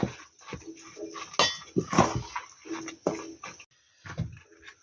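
A utensil scrapes and clatters through zucchini fritter batter in a bowl, with irregular clinks and scrapes close to the microphone and no talking.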